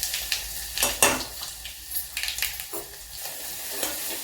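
Cumin and mustard seeds crackling and popping in hot oil for tempering, quick irregular snaps and sizzles close by, fairly quiet, with no one speaking.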